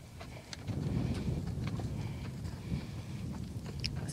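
A rescued Belgian draft horse walks outdoors, its hooves thudding in a slow, irregular clip-clop at close range over low background rumble, with no talk.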